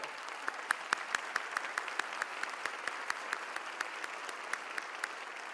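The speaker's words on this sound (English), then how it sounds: "let's give them a round of applause and congratulate them on their accomplishment" At a Macon-Bibb community address, an audience applauds a group of student entrepreneurs. Steady clapping runs throughout, with a few sharper, louder claps standing out close by.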